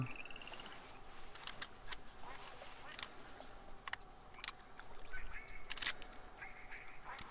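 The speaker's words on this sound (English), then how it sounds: "Alright, we got some more ducks coming in." Ducks quacking and calling repeatedly in the hunting game theHunter, a busy layered chorus of honking and quacking calls over a steady outdoor background, with occasional sharp clicks and no talking.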